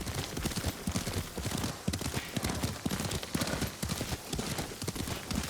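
Steady clip-clop of horse hooves at a trotting rhythm in Ghost of Tsushima, close and continuous, with a soft ambient wash behind it.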